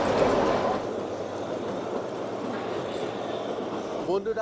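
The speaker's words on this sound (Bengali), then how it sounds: "আজকে আমরা সফর করছি কেএসআর রেলওয়ের অন্তর্ভুক্ত শিবালিক ডিলাক্স এক্সপ্রেস" Shivalik Deluxe Express rolling along the Kalka-Shimla narrow-gauge railway, a steady rumbling run with continuous wheel and carriage noise, fairly loud throughout, with a brief clatter near the end and a voice heard under it.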